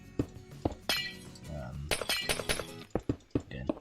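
Blue stained glass blocks are placed in Minecraft with a series of sharp glassy clinks and taps, irregular and close, while a person talks throughout.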